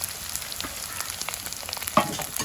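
Chopped shallots sizzle and fry in hot oil for a fish curry, a steady close crackle with a brief louder pop near the end and no voices.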